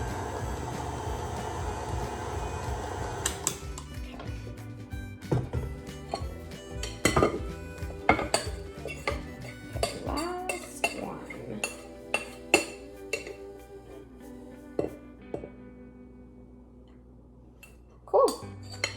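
Mint chocolate chip cookie dough mixed in a bowl: irregular clinks and knocks of a utensil against the bowl, with scraping, louder at first and then sparser and quieter.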